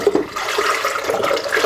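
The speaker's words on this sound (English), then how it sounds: "now I'm going to put in a little bit more vegetable broth" Vegetable broth splashing and gurgling as it is poured into a big soup pot, a steady close liquid rush lasting under two seconds.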